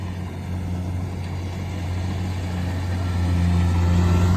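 A Kubota DC 68G combine harvester cutting paddy in a rice field, its engine running with a steady low drone and hum that stays close and grows slightly louder toward the end, with no voices.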